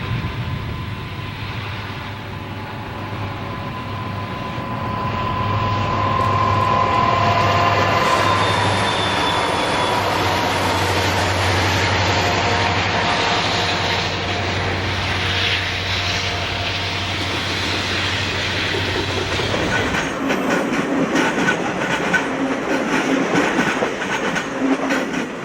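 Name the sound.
Santa Fe westbound freight train led by SD45U locomotive passing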